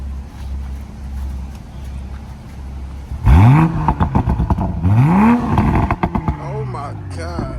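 A Toyota Supra idling with a low steady rumble, then two sharp revs that rise and fall with a crackling, popping exhaust, loud and close, while people react and talk.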